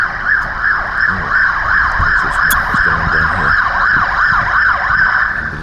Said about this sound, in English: Ambulances, traffic everywhere.